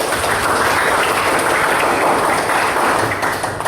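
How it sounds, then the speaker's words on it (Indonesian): A class of students in a school classroom gives a dense, steady round of applause that fills the room for several seconds without letting up. "tepuk tangan dulu untuk kita semua"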